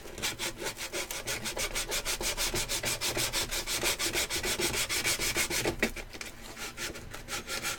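Steady, rhythmic back-and-forth rasp of sandpaper rubbed by hand over a foam blaster, close and loud, with even strokes continuing throughout and no talking.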